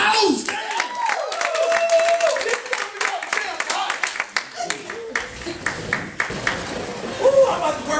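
Audience at a comedy show at Theater 47 clapping for the host, scattered applause and cheering from a crowd that swells then thins out, with a performer's voice talking over it near and loud.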